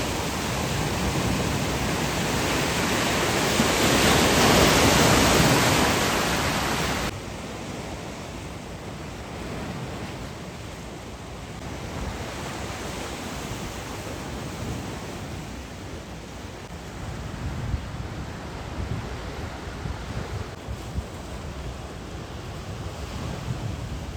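Sea waves on the Amalfi coast in Italy rushing and washing against rocks, a broad steady roar that swells loudly early on, then settles into a continuous wash with wind.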